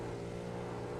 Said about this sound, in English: you gotta love the roar of these engines as they just go around and around the